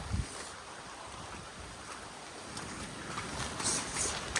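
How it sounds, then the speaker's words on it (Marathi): Steady broadband rush of a large waterfall, loud and continuous, with wind buffeting the microphone and a faint high hiss near the end. "हे बघा किती मोठा धबधबा आहे"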